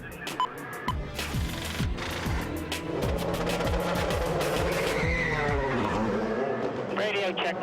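Audi R8 race cars from the Audi Sport UK Team Veloqx scream past one after another at Le Mans in 2004, loud rising and falling engine notes in quick succession with faint tire noise, voices in the background.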